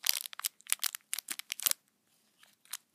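Scissors cutting open plastic Shopkins blind basket toy packaging: a close run of crunchy, crinkling snips and tearing bursts in quick clusters, then a pause and a few fainter crinkles.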